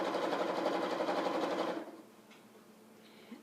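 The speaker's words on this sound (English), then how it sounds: "straight stitch very close to that edge" Sewing machine running a straight stitch along fabric tubes, a steady fast mechanical hum for almost two seconds that then stops, leaving a quiet room with a faint click.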